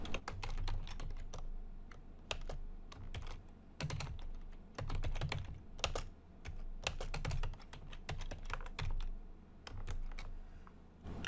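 Fingers type a query name on a computer keyboard, giving a steady run of close, crisp key clicks with uneven bursts and short pauses.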